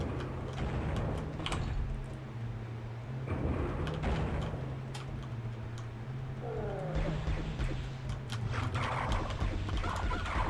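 Video game chickens from the Doom-engine Heretic/Hexen world cluck and gobble in short bursts over a steady low game hum, with clicking and door-like sliding noises mixed in.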